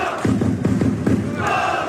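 Bosnia and Herzegovina football supporters chanting pro-Palestine songs before a World Cup match, a loud massed crowd of voices pulsing in rhythmic shouts.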